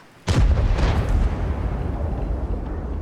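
A single loud artillery shell explosion in a tank video game, with a sharp boom followed by a long rumbling decay that stays strong to the end.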